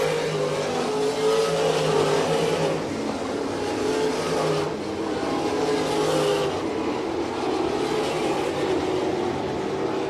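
Winged sprint cars, including 360 sprints, race around a dirt oval, several loud engines roaring continuously close by with rising and falling revs as cars jockey for position.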